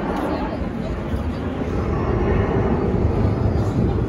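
A jet airplane roars steadily overhead on approach to Sochi airport in Adler, a broad continuous rumble that grows slightly louder toward the end, with faint crowd babble beneath.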